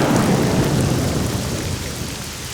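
Heavy pouring rain with thunder in a Tamil drama scene, a loud dense hiss of downpour with a deep rolling rumble underneath, easing slightly toward the end.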